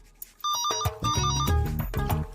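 A musical phone ringtone sounds during a Telugu comedy film scene, a close, clear repeating melody that starts softly and then plays at full volume for about two seconds with no speech.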